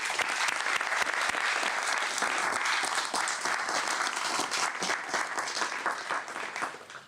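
Audience at a Moravian Church settlements announcement press conference giving a round of applause, many hands clapping steadily and fairly close for several seconds, tapering at the end.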